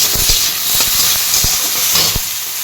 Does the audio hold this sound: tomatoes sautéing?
yes